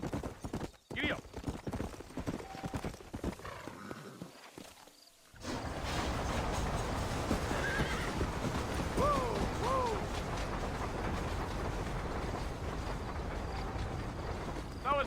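Horse hooves clip-clop at a steady rhythm during a ride in the Red Dead Redemption video game, with a brief neigh and some talk and game ambience around it.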